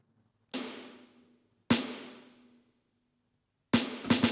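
A rock snare drum sample cracks three times at spaced intervals, each hit ringing out and fading; the last comes as a quick cluster of strikes. Clean and isolated, with no voices.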